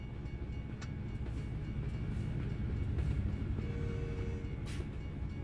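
Amtrak passenger train rolling past, heard from inside a Kenworth W900 truck cab: a steady, continuous low rumble with faint rail noise and a few brief higher squeaks, fairly distant under the cab's engine drone.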